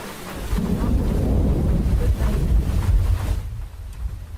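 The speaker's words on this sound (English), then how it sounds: "I kind of like the rain, guys. It don't bother me." Rain and thunder on a chill night in a video game, a heavy low rumbling roar over steady rainfall that drops away abruptly near the end, with no talking.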